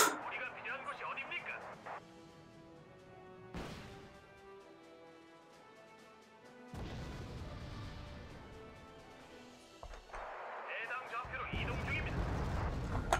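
Artillery barrages and explosions in the real-time strategy game Wargame Red Dragon thunder in bursts, with heavy broadband blasts near the start, middle and end and quieter stretches between, while someone talks over the action.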